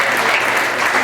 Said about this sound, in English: Let's give Santa Claus a round of applause.